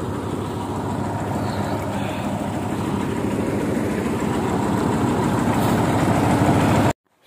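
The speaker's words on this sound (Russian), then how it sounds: "Татрочка работает сейчас" A Tatra truck engine idles and runs in a steady low, throbbing drone at close range, holding constant before cutting off abruptly near the end.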